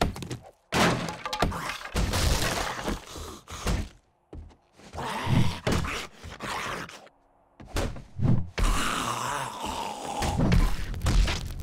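Breaking objects in the zombie survival game 7 Days to Die (Alpha 19): repeated heavy thunks and cracking, shattering hits with brief pauses between impacts, loud and close.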